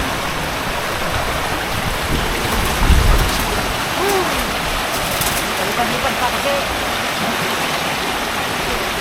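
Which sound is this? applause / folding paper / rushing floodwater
rushing floodwater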